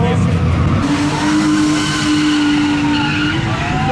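Rear-wheel-drive Honda Civic race car lapping a track, its tires squealing in a long sustained howl over loud engine and road roar, close and continuous throughout.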